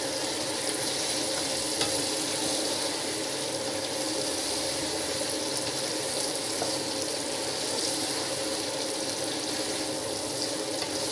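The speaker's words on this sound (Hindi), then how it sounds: "साथ ही टमाटर भी डाल देंगे, 2 मैंने टमाटर काटे थे। इनको अच्छी तरह भून लेंगे।" Chopped tomatoes fry in a pan for vegetable pulao, giving a steady, loud, hissing sizzle that continues without a break.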